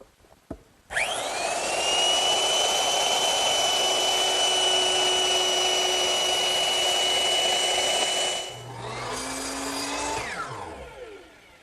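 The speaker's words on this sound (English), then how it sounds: "on the outside face of the end panels, I'm running a decorative chamfer right along the edge of all 4 pieces" A router cutting a decorative chamfer along the edges of wooden end panels for a coffee table, a loud steady high whine running for about eight seconds, then a brief restart that spins down to a stop.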